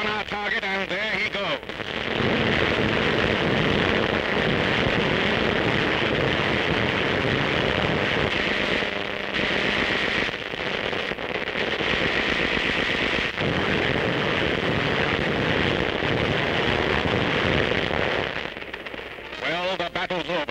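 Continuous roar of anti-aircraft gunfire aimed at an attacking Japanese plane in a WWII newsreel, a dense, loud, crackling barrage lasting throughout, with brief dips and a narrator speaking over it.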